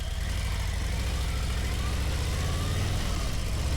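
A 2026 Harley-Davidson Fat Boy motorcycle engine runs in first gear, giving a steady, deep, throbbing rumble recorded close up with no change in pace.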